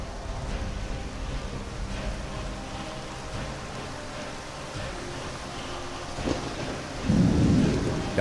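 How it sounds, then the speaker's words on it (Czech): A thunderstorm with rain in the video game Skyrim: a steady wash of rainfall under low rumbles, with a louder thunder roll breaking in near the end, no voices. "Já, bouřka do toho."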